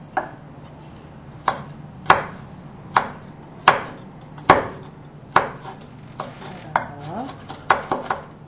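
A knife slices bellflower root (doraji) into thin strips on a cutting board, giving about a dozen sharp, distinct chops in an uneven rhythm, close and clear, with no talking.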